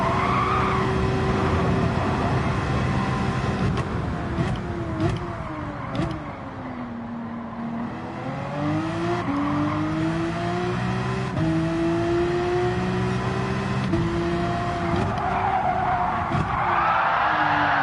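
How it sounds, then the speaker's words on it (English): Race car laps in Gran Turismo 7 on the Grand Valley circuit, with an engine revving up and down through gear changes, tires squealing through corners, loud and close with no talk. "Driving laps around here in a car I quite like."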